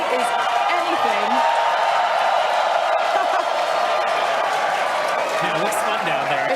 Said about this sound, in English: Everyone's cheering as we get into T-minus 5 minutes.